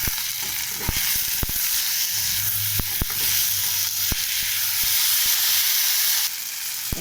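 Chopped tomato with a paste of ginger, cumin and dried chilli sizzles loudly and steadily while being stir-fried, with a spatula clicking sharply against the pan every second or so.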